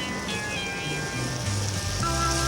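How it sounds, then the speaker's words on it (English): Cloudburst rain from a 1970s children's TV show, a steady dense hiss of downpour with faint tonal music or hum lines running beneath it. "and then cloudburst."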